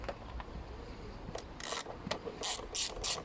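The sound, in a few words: socket ratchet undoing bolts on Ford Focus engine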